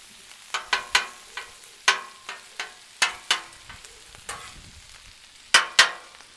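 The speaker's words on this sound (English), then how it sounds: "let's get these grilled onions done" Onions frying on a Blackstone griddle with olive oil over high heat, a steady sizzle broken by a run of sharp scraping and tapping clatters from a spatula, close and fairly loud, with no talking.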